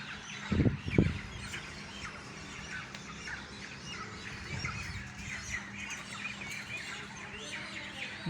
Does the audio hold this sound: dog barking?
no